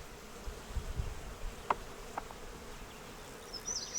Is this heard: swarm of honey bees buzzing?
yes